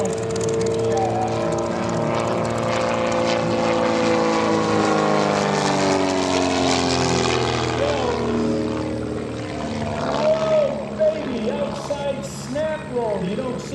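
A propeller aircraft drones loudly and steadily at an airshow, its engine pitch swelling and shifting as it passes, with a voice talking faintly underneath.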